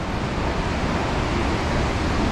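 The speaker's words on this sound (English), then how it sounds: "Yeah, this waterfall sounds pretty loud." A loud waterfall in a cave tunnel in Vietnam gives off a steady, close, unbroken roar of rushing water that fills the whole stretch without letup.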